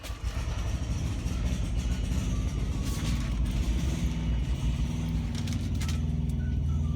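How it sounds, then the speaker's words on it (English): A Thermo King APU engine on a truck starts up, a steady close rumble broken by a few uneven sputtering bursts partway through before settling into a continuous running drone. "You will hear the APU spit, sputter, and start it up."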